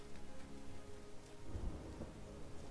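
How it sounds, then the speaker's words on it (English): Thunderstorm sound effect played during a tabletop fantasy role-play session: steady rain hiss with a deep rolling rumble of thunder swelling midway, fairly faint and with no talking over it. "Oh, thunder."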